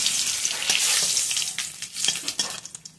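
Cumin seeds and bay leaf dropped into hot oil in a pan, a loud crackling sizzle that starts dense and steady, then breaks into sharper pops and spits as it settles.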